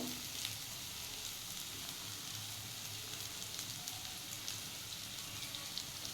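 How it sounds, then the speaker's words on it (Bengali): Pointed gourd frying in mustard oil in a pan, a steady close sizzle and crackle that holds at an even level throughout, with no talk. "এখন এটা আমি ভেজে নেব"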